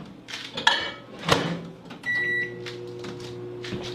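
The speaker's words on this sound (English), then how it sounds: "I'm gonna put this in the microwave and melt it right quick" A microwave oven melting margarine in a home kitchen: door clatter and bumps, then a steady hum with a brief beep near the middle, running on at moderate volume with no talk.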